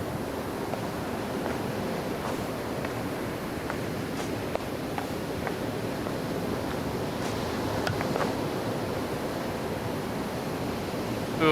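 A power washer in the Power Washer Simulator video game sprays water in a steady, loud, broadband hiss that runs unbroken throughout, with a few faint clicks over the rushing spray.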